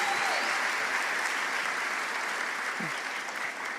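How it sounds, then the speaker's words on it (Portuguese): Sustained audience applause for Ricardo Marques at a church gathering, a dense, even roar of many hands clapping for nearly four seconds, loud and steady throughout. "Pode aplaudir, homem de Deus."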